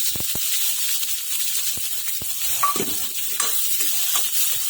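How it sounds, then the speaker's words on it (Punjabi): Chopped onion tossed into garlic already frying in a pan for spinach and amaranth saag: a steady hiss of frying broken by a few sharp clicks and scrapes of a spoon stirring. "ਹੁਣ ਆਪਾਂ ਇਹਦੇ ਵਿੱਚ ਇੱਕ ਕੱਟਿਆ ਹੋਇਆ ਪਿਆਜ਼ ਪਾ ਦਵਾਂਗੇ"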